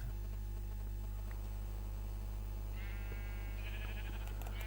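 A sheep's bleat in Minecraft comes in short wavering bursts over a steady low electronic hum, fairly faint and with no talking.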